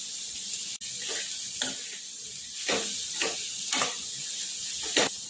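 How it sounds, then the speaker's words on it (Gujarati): Carrot and cabbage stir-fry in a hot pan with a constant close sizzle, broken by several sharp scraping stirs at irregular intervals. "ગાજર એડ કરી દઈશું અને કોબીજ એડ કરી દઈશું બધું મિક્સ કરી લઈશું"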